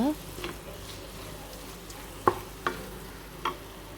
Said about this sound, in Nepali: यसलाई चाहिँ मजाले एकछिन चलाउने। एकदमै चलाउने।